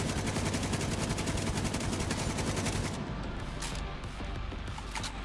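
Magnum revolver and other gunfire in The Division 2: a dense, rapid rattle of shots for about three seconds, then a few sharp, isolated reports against a quieter background.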